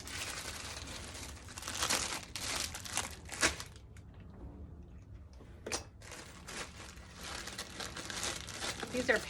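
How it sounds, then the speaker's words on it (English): Paper confetti sprinkles crinkle and rustle close up as they are handled, in bursts of dry crackling separated by short quiet pauses. "it's confetti sprinkles, and they're paper"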